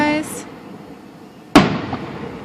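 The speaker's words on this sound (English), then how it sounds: "it's kind of cool to see fireworks" Fireworks going off over a mountain town, one sharp loud burst cracking out and echoing as it decays, after a softer distant pop and quiet lulls between.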